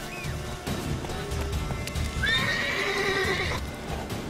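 A horse in the video game The Witcher 3 whinnies clearly in a rising neigh, with clip-clop hoofbeats and game ambience underneath.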